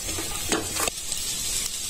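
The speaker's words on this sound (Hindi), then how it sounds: "अब डाल दीजिए हमारा चिकन और उसको अच्छे से स्टर कर दीजिए" Chicken pieces stirred in a hot pan, with a steady sizzle of frying and a couple of brief scraping stir strokes near the start, close and fairly quiet, no talk.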